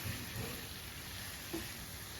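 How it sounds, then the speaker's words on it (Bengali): Chilies frying in a pan for shrimp bhorta, a soft, steady sizzle close by with a few faint stirring scrapes, no talking. "এটা ভেজে নিতে হবে"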